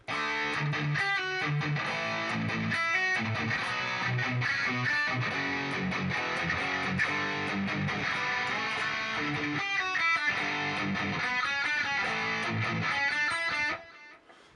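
A heavily distorted electric guitar plays a main riff slowly, chugging power chords and single notes, loud and continuous, then stops abruptly at the end.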